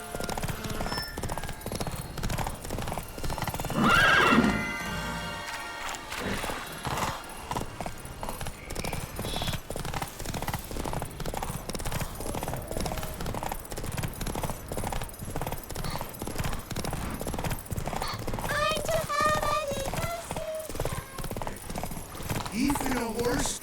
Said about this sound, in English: Even a horse drops if you ride it, Knuckles.